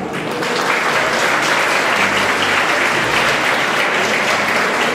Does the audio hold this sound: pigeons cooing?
no